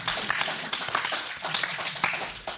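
Live audience at a retro gaming expo panel breaks into steady, dense clapping that fills the room at close range and continues without pause.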